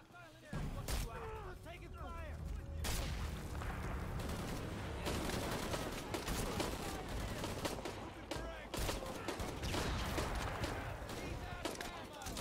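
Video game gunfire crackles in dense, rapid bursts and volleys for several seconds, loud and near, layered with booms and game effects while a player talks over it.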